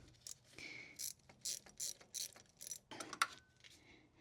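Ratchet clicking in short bursts while tightening bolts on a Ford Escort cooling system, rapid pawl ticks repeating up close with brief pauses between strokes.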